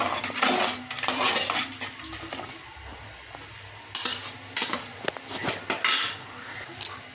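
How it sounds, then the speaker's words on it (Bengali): Utensil scraping and clinking against a pan as soy sauce and tomato sauce are stirred together over the stove, with irregular close metallic knocks and scrapes growing louder and more clustered toward the end. "এখন এগুলো একটু আমরা নেড়ে চেড়ে মিক্স করে নিই।"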